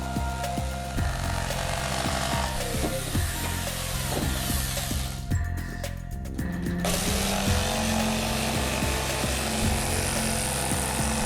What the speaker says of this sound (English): I use a jigsaw or bandsaw.